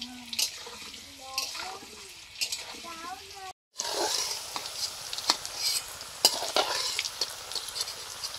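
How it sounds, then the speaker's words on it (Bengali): Potatoes frying and being stirred in a pan in a home kitchen, with sizzling broken by scraping stir strokes and a brief gap midway, alongside some background clatter. "আলুগুলো ভাজা হয়ে গেছে, তুলে নিচ্ছি।"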